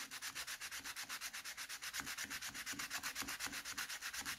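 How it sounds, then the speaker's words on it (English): Steady back-and-forth strokes of a 120 grit sanding block on wood while building a Mayflower ship model, a fast even rasping rhythm up close with no talking. "sanding block. I use 120 for this, 120 grit."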